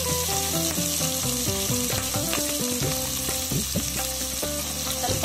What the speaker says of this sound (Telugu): బ్రౌన్ కలర్ వచ్చే వరకు ఇట్లా ఫ్రై చేస్తున్నాను